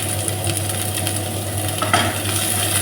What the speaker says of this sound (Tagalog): Yung luya, kailangan igisa natin kasama yung tanglad para mabango guys.